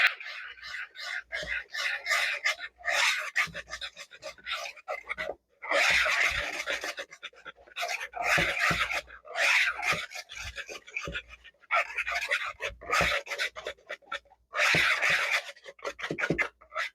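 Baking soda, salt and other dry ingredients for rocky road cookies are whisked in a bowl, giving quick bursts of rasping, scratchy strokes in short rhythmic runs separated by brief pauses, close and fairly loud.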